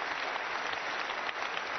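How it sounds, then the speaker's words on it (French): A church congregation at a morning water event in Paris applauding for Jesus Christ, continuous close clapping from many hands at a fairly soft, even level, with no voices over it. "Let's put our hands together for Jesus Christ one more time"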